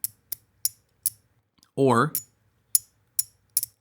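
A Beetle 3 fidget toy with piano-key style buttons gives sharp, evenly spaced clicks, close and distinct, with a short spoken word in the middle of the run.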